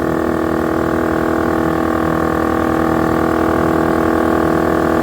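An ALL-TOP 12V dual-cylinder portable air compressor runs with a steady, loud motor hum and a fast rhythmic pumping throb that holds constant through the whole stretch, with no voices.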